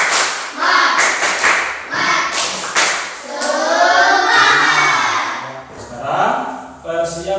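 Rhythmic group hand clapping in quick patterns, a classroom spirit clap, mixed with a voice chanting along.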